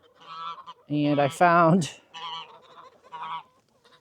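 Domestic geese honk loudly nearby in a farmyard waterfowl area, a burst of harsh repeated calls in the middle with softer honks before and after, while a person briefly speaks.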